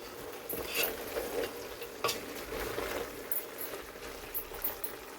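A spoon stirs chicken masala powder into a curry in a pot, giving soft, steady scraping and a faint sizzle with a few clinks against the metal, close and fairly quiet, with no talking.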